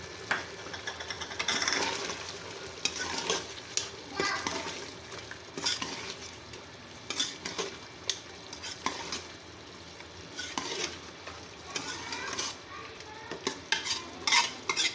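Mixed spices frying for karahi gosht are stirred in a pan, with a steady sizzle under repeated scraping and clinking strokes of a spoon against the metal, fairly close and continuous.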